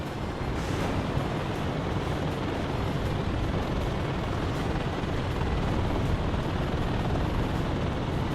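Military helicopters in the WARNO war strategy game make a steady, dense rotor roar that fills the whole stretch. The noise is loud and unbroken throughout, with no talk over it.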